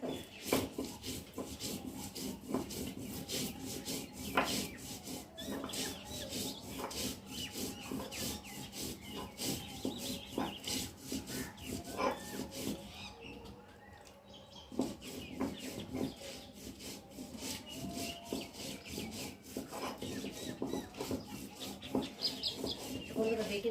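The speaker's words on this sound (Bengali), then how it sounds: "এবার আমি ভালো করে বেটে নেব।" Mustard seeds, poppy seeds and green chillies ground into a paste on a stone, a continuous rough scraping rub back and forth in a home kitchen, with a brief pause partway and faint birds and roosters in the background.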